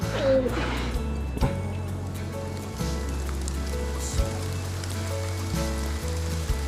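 Rain falls steadily outdoors at night, a soft continuous hiss that sits beneath gentle, sustained background music with no voices.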